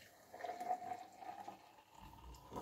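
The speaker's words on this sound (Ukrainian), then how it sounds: "Так, ми заливаємо френч прес" Hot water is poured into a French press as coffee is made at home, a soft, faint liquid trickle with a steady pour through most of the moment and no voices.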